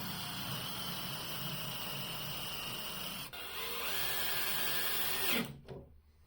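Power drill driving screws through OSB sheathing into a 2x4 below, a steady close whirring motor that runs continuously, changes pitch midway, then stops abruptly near the end.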